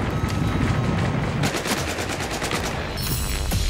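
Automatic machine gun fire in the Battlefield 4 video game, rapid repeated bursts of shots crackling steadily across the whole stretch, loud and close, with no talk over it.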